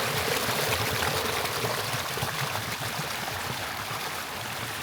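Water pours steadily into a flooded construction site past a large stone, a continuous close rushing and trickling with no talk.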